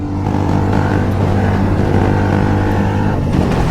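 A motorcycle on the move, its engine giving a loud, continuous droning hum close up, roughly even in pitch, with no one speaking.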